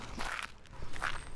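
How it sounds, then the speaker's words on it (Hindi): Slow footsteps outside a door at night, two or three heavy, muffled treads spaced apart, close and clear against a quiet background, with no talking. "क्योंकि उसकी पैरों की आवाज मुझे साफ साफ सुनाई दे रही थी।"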